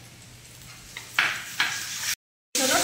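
Crushed ginger goes into chopped onions frying in oil, raising two sharp bursts of sizzling over a quiet background hiss before a short cut to silence and a renewed sizzle.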